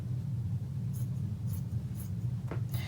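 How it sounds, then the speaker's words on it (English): Scissors snipping through fleece fabric for a pillow, heard as faint, quick cuts about every half second over a steady low hum, with no talking. "I cut it with my scissor."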